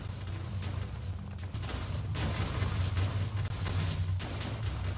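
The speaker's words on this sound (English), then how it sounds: "Alright, so it's exploding now, and hopefully it doesn't come over here." A mass of Minecraft TNT, thousands of blocks, detonates in a dense, continuous barrage of crackling booms and blasts that rise and fall in waves without pause.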